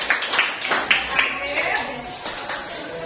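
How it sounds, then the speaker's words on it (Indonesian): Students in a classroom applaud group 1, scattered hand claps rising in bursts under steady talking voices that stay prominent throughout. "beri tepuk tangan untuk kelompok 1"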